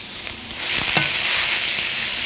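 Tomatoes and fresh herbs sizzle in a hot pan as a utensil stirs them, a few scraping strokes cutting through a steady hiss that briefly swells.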